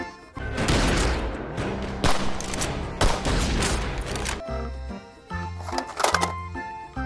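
Rapid bursts of electronic gunfire from a plastic toy gun, loud and close, repeating in short volleys with brief gaps between them.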